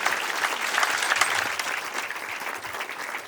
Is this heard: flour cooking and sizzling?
no